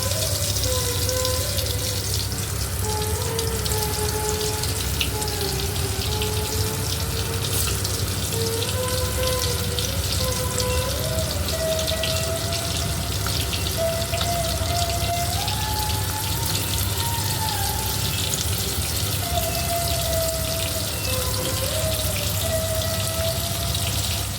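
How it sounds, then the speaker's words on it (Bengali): Boiled cauliflower fries in hot oil with a continuous, dense crackling sizzle at a steady level throughout, while a faint wavering tone drifts in the background. "সেদ্ধ করা আছে এগুলো ভেজে নেবো"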